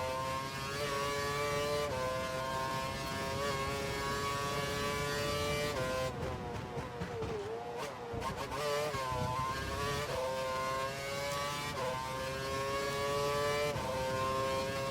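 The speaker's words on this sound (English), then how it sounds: "Car behind is running standard revs." Formula One car engine from F1 2012 revving high and steady, a loud continuous whine that dips briefly mid-way and climbs back, with no voices.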